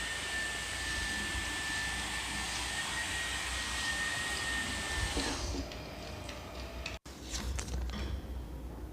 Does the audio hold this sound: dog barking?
no